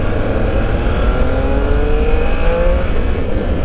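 A 2021 Triumph Speed Triple 1200 RS motorcycle engine roars loudly and close, its pitch gliding as it revs while riding, in a continuous strong drone.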